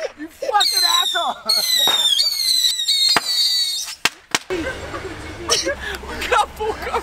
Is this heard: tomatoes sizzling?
no